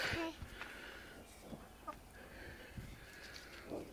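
Chickens cluck softly around scattered fish laid out for them, giving short, irregular low clucks and a few brief higher calls over a faint, quiet background.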